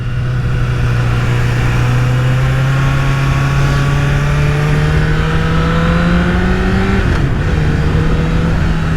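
A Honda CBR1000RR Fireblade SC59 superbike engine climbs steadily in pitch under hard acceleration, drops sharply at a gear change near the end, then pulls again, loud and close.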